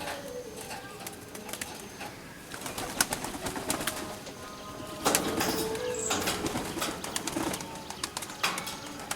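Racing pigeons coo inside a loft, soft repeated calls mixed with rustling and occasional wing flaps, fairly close and continuous throughout.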